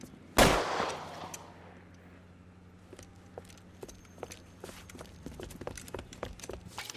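A single loud gunshot cracks out in the crime game L.A. Noire near a tin shack, then a run of quicker, fainter shots and clattering impacts follows at an uneven pace over a low hum.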